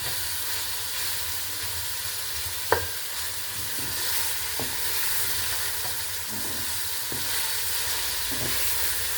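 Onions fry with a steady loud sizzle and hiss as pilaf is prepared, with a sharp utensil knock against the pan and scattered scraping stirs throughout.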